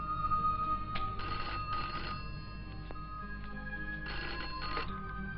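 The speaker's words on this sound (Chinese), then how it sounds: "帮我接下电话" An indoor telephone rings in repeated double bursts, two pairs of bell trills separated by a pause, fairly faint and close with no speech over it.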